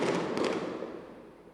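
Daytime fireworks at a wedding, a dense burst of crackling pops right at the start that fades steadily as the sound trails off, with no voices over it.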